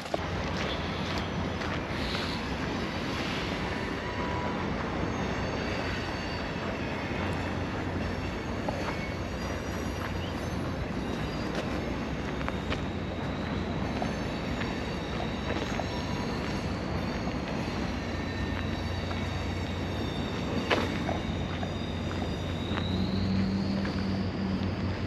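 Via Rail's Canadian passenger train at Jasper, en route from Montreal to Vancouver, gives a steady, loud rolling rumble of rail cars throughout, with a thin rising wheel squeal creeping in near the end and no voices.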